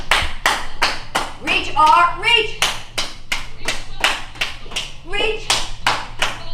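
Several people clap hands in quick, rhythmic bursts during a virtual Zoom exercise class, close and loud, with an instructor's voice calling out moves between and over the claps.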